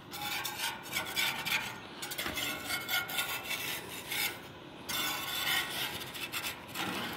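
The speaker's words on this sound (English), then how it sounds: "I'm going to try to get in there with a spatula and see if it's sticking." A spatula scrapes and rubs beneath a pizza inside a Camp Chef pizza oven, giving faint, intermittent rasping strokes with short pauses between them.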